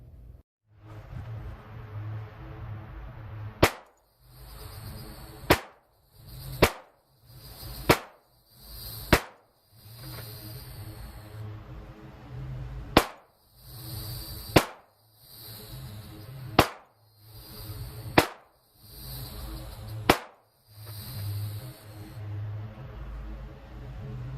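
Glock 40 10mm pistol fired from a bench, about a dozen sharp, loud individual shots spaced a second or two apart, each followed by a short ringing decay, with no talking.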